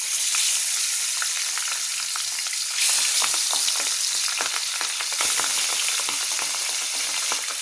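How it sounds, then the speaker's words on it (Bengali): Fish fry in hot oil in a wok (kadai), giving a loud, continuous sizzle dense with crackling spatter pops, close and steady with no talk. "বন্ধুরা মাছগুলো কিন্তু খুব ফোটে,"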